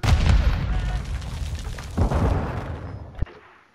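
A heavy booming blast opens, followed by rumbling and a single sharp gunshot crack near the end before it fades, from Call of Duty: Modern Warfare II gameplay on a farm map.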